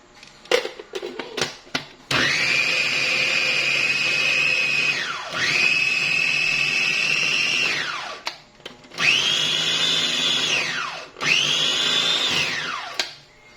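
A blender grinding pesto herbs in three long bursts, each a loud, steady whine that winds down between runs, preceded by a few short clicks and taps.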